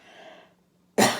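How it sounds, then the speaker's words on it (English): A single sharp cough bursts out near the end, loud and close, after a stretch of quiet room tone during a needlework chat. "Am I going to cough again this whole video?"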